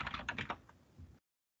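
Quick burst of typing on a computer keyboard, several sharp close clicks in a fast uneven run, then slowing and stopping, quiet and without talk.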